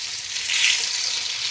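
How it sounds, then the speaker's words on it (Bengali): Chicken pieces frying in a pan over a medium flame, a soft steady sizzle that swells slightly in the middle, heard alone without voices. "হাই ফ্লেমে ভাজা যাবে না, মিডিয়াম ফ্লেমে আস্তে আস্তে ভাজতে হবে।"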